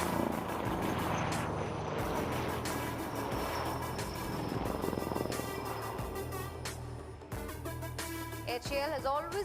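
A helicopter flown by HAL test pilots at the Aero India 2021 air show gives a steady, loud rotor and engine drone, with a broad roar throughout and faint varying whines near the end.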